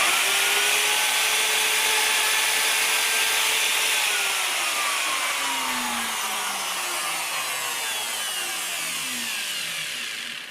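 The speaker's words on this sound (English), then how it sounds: "If you are going to use your router to plunge holes in a piece of timber" Wood router spinning up and plunging into timber, a loud high whine with a rising then slowly falling pitch as the cutter runs on, close and continuous with no talk.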